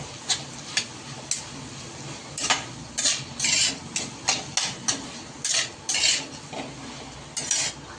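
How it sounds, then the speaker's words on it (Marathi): Cluster beans sautéed with salt in a pan, a spoon scraping and clinking against the metal in irregular bursts of stirring over a low background, no voices. "आता याच्यामध्ये आपण चवीनुसार मीठ टाकून घेऊया. आणि चांगलं परतून घेऊ."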